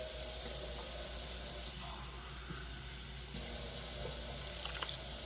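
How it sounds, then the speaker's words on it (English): A kitchen tap runs steadily for several seconds, a continuous faint splashing hiss as water is added to a crockpot of chili. "I'm gonna add a little bit more water"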